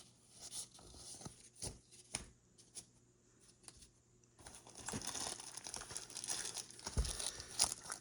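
A plastic pack of 1988 Score baseball cards is torn open and handled, with crisp crinkling, tearing bursts and shuffling card rustles, close and intermittent, getting busier toward the end.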